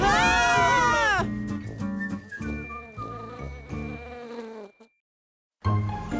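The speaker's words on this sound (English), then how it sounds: "Not the bees again!" Cartoon bees give a loud, dense swarm of buzzing that opens the scene, followed by busy animated sound effects and music before a short silence and a final burst.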